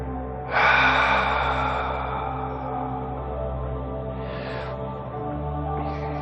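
During a yoga breathing exercise, a person takes a long, audible inhale that starts sharply and fades slowly, followed by softer breaths, heard up close over a steady low background hum.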